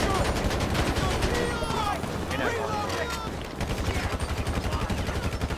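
Rapid automatic gunfire in GTA V as a police shootout breaks out, loud continuous bursts of shots with a voice speaking partway through, then a steady rhythmic hammering of fire at the end.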